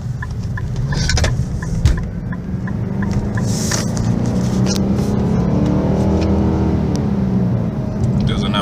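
Infiniti M56 engine revving steadily in low gear, its transmission holding the gear without upshifting; a loud, sustained drone with a rising pitch runs throughout the clip.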